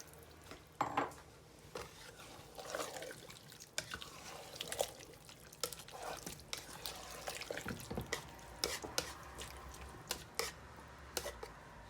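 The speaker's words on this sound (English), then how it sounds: "Mix all these together and add another bit of water." Chicken meatball mixture is stirred with added water, producing soft wet squishing, dripping and scattered clinks against a bowl, irregular and fairly quiet.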